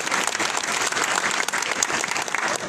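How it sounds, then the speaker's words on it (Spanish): An outdoor crowd at a swearing-in ceremony in San Andrés Huaxpaltepec, Oaxaca, applauding, a dense, loud, steady burst of many clapping hands lasting throughout. "¡Fuerte los aplausos!"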